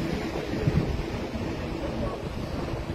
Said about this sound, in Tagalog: Mahangin lang.